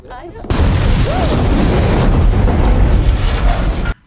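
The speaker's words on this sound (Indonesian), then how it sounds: "satu mobil pengawal pun meledak oleh tentara bayaran" A car explosion in a film: a sudden, loud blast erupts and roars on for several seconds as a dense, rumbling blast before cutting off abruptly.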